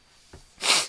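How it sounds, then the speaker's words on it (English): A man sneezes once, a short sharp burst after a brief intake of breath, close and fairly loud in a quiet room. "I'm going to sneeze."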